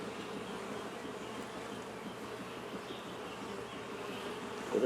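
Honey bees hum steadily at an open hive holding a newly hatched queen, a close, continuous drone with no voices over it.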